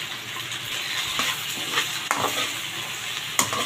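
Leftover meat is stir-fried with chili in a hot pan, giving a steady sizzle broken by scraping stirs and a few sharp clacks of the utensil against the pan, with no talking.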